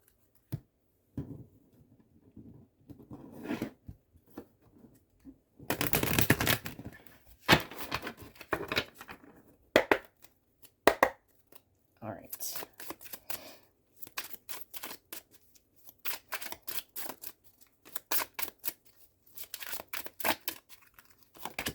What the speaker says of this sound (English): keep on shuffling. So that is exactly what I'm going to do.